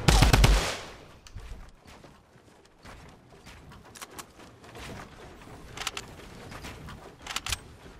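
Fortnite Battle Royale gunfire: a loud burst of shots at the start, then scattered rapid cracks and short volleys near and far across the rest, with no voices.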